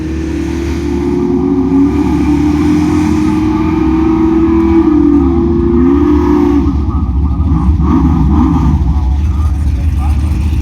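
A Dodge Hellcat and a jet car race at a drag strip, a loud sustained engine roar rising and shifting in pitch over about ten seconds, with voices talking over it.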